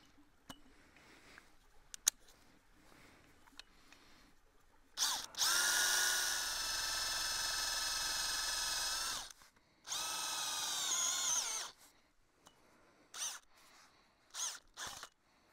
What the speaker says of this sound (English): The only delay I'll have is drilling through almost a quarter inch sidewall of that pipe.